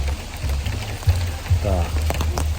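Steady heavy rain pours at a campsite, a constant dense hiss with low drumming spatters, while voices talk over it.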